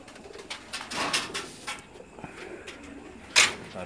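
Pigeons on a rooftop loft give soft, repeated cooing, with a sharper bright chirp or flutter near the end, heard at moderate distance without talk.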